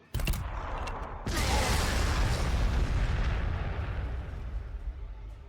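Frag grenades explode in a Warhammer 40,000 Sanctus Reach battle, a few sharp cracks followed by a loud, rolling blast that decays slowly.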